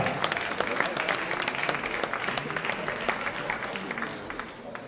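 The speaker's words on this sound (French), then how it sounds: "Je demande qu'on l'applaudisse très très chaleureusement" Warm applause from an audience at a sports awards evening as a nominated athlete is introduced, many hands clapping in a dense, even wash, moderately loud, with no voices over it.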